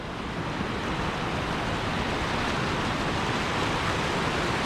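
Flowing stream water in the hills around Dufton and High Cup Nick, a constant broad rushing roar that is fairly loud and even throughout, with no voices.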